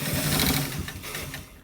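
A sewing machine stitching a front pocket on a garment, running as one steady, close, whirring stretch of rapid needle strokes with no talk.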